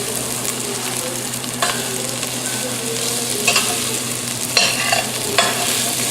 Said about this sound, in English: we're going to stir fry just a little bit